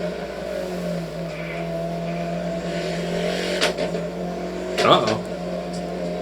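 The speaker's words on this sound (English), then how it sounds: "Sounds like a fuel cut, maybe?" A race car engine drones steadily at track speed, then stutters briefly near the end as if the fuel cuts out, while people talk over it.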